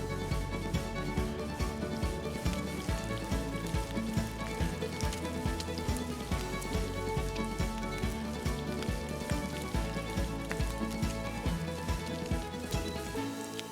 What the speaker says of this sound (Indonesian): sekarang waktunya kita untuk menggoreng.